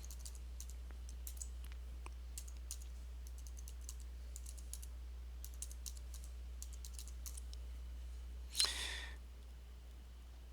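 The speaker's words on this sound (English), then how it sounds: "now we need to type in the address" Sparse, faint keystrokes on a computer keyboard typing a web address on an Arch-based Linux desktop, set over a steady low hum and ending with a brief louder swish.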